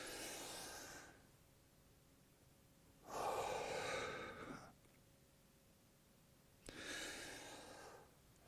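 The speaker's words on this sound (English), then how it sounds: "Every rep is matched up with our breathing." Breathing paced with a back exercise done on the floor without equipment: three long, soft, airy breaths, alternately drawn in and let out, separated by quiet gaps, close and faint with no talking.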